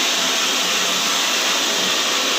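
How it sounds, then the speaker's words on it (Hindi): A hair dryer blows keratin treatment dry into straightened hair, a steady loud whooshing hiss of air held close and constant throughout, with no talking. "इसे आपको ड्रायर से ही बालों में सुखाना है।"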